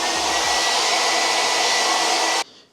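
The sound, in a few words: hair dryer running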